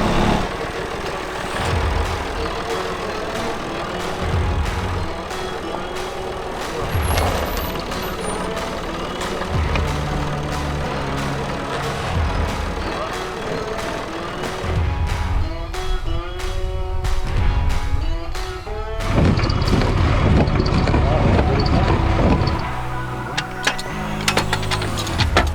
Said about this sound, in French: il va venir dans le champ pousser le bus avec son tracteur